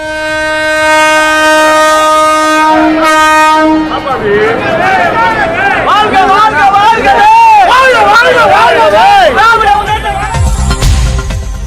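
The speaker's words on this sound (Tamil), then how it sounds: "தாம்பரம் ரயில் நிலையத்தில் நின்ற ரயிலை மத்திய இணையமைச்சர் எல் முருகன், TR பாலு உள்ளிட்டோர் கொடியசைத்து அனுப்பி வைத்தனர" A Tejas express train sounds a long, loud, steady horn at Tambaram railway station as it departs, followed by a noisy crowd cheering and talking close by.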